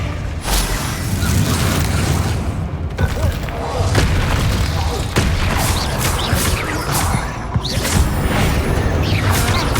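Spell combat in Hogwarts Legacy, with Bombarda and Expelliarmus blasts: loud, dense booms and crashing impacts pile up over a continuous rumbling backdrop, with whooshes and sharp hits in quick succession.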